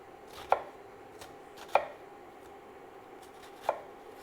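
A knife roughly chops an onion on a cutting board while taco fixings are prepared, three sharp, well-spaced chops over a quiet background with no talk.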